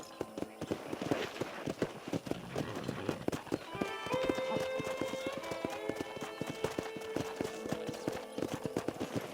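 Horse hooves clip-clop steadily in a rhythmic gait near a ranch corral in the Western video game Red Dead Redemption, with a brief whinny and a tonal background score.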